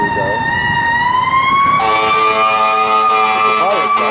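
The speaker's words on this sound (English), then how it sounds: "There's going to be a siren going by very, very soon." Fire truck siren sweeping loudly past on a city street, its wailing tone rising in pitch and intensity partway through and continuing steadily as the vehicle closes in, with traffic rumble underneath.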